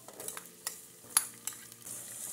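Garlic and onion frying in a pan for Brazilian carioca beans: a soft continuous sizzle with a few light clicks of a spoon stirring against the pan, close and quiet, with no voices.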